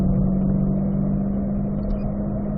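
A race car at a Ron Fellows driving school session, engine held at a steady, loud mid-pitched drone with a strong constant tone as the throttle is picked up, close and uninterrupted, without talk.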